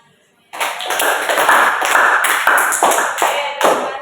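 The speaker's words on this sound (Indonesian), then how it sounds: "boleh tepuk tangan dulu semuanya." A school class of eighth-grade students claps together in a room. The applause is close and dense, with many hands and a few scattered voices, and it lasts a few seconds after a quiet start.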